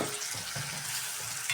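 Chopped tomato frying with onion in a pan for a drumstick dry curry, giving a steady, close sizzle with soft stirring scrapes and no voices.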